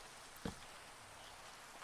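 Rain falls steadily in a tropical setting as a soft, even hiss, faint and continuous, with one brief tap near the start and no voices.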